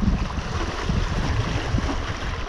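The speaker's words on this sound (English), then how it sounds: "The wind makes it tolerable." Steady wind buffets the microphone out on open water during a hot-weather fishing trip, a loud continuous rushing roar with low gusty rumble and no pauses.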